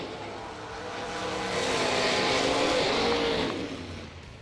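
A dragster at a bracket drag race, a red and white run-sticker car in a re-entry round, roars loudly and steadily, building to a sustained high-revving blast through the middle before easing slightly at the end.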